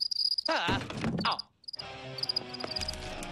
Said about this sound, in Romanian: E un greier aici?